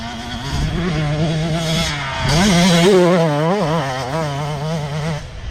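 A motocross dirt bike engine drones at a steady pitch, then revs up sharply and wavers as the rider accelerates across rough ground, loud and fairly close.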